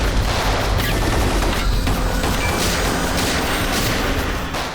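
Loud, dense gunfire fills a TV crime serial scene, a sustained barrage of overlapping shots and booms with no pauses, heard alone without talk.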